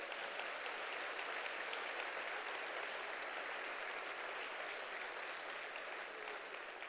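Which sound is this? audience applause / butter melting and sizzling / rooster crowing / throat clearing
audience applause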